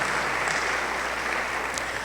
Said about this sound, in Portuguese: Quem pode bater uma salva de palmas para Jesus?